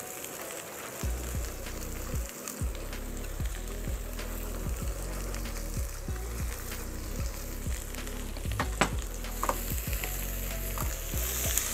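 Zucchini seasoned with salt, mushroom stock and pepper sizzles in a pan for bibimbap, with a steady close frying hiss and repeated, evenly spaced scraping strokes of a spatula.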